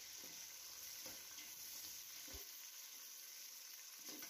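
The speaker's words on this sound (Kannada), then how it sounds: "ಈರುಳ್ಳಿ ಈಗ ಚೆನ್ನಾಗಿ ಫ್ರೈ ಆಗ್ತಿದೆ. ಟೊಮೊಟೊ ಹಾಕ್ತಾ ಇದ್ದೀನಿ." Tomato and onion fry in a pan for vegetable pulao, giving a steady close sizzle broken by a few soft stirring knocks, with no talking.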